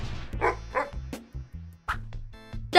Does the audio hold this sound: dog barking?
yes